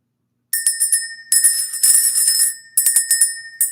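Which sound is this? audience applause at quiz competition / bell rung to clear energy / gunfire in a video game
bell rung to clear energy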